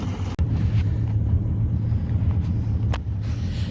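A boat's outboard motor runs on the water after a fresh impeller, fuel gasket and gear oil change, giving a steady, close, low engine rumble mixed with wind buffeting the microphone.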